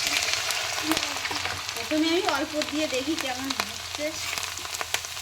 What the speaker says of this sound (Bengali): এইবার তেলের মধ্যে কিন্তু আমি এইগুলি ছেড়ে দেবো।